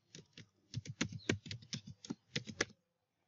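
A password is typed on a computer keyboard: a quick run of about fifteen soft, close key taps in an uneven rhythm, then silence.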